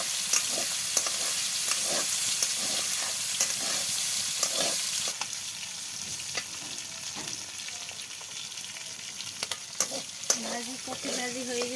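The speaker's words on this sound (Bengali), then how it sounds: "একদিকে মাছ ভাজা করে নিতেছি, একদিকে ফুলকপি ভাজি করতেছি।" Fish and cauliflower fry together in hot oil in a village kitchen, giving a steady, close sizzle with scattered clicks and clatters of stirring throughout.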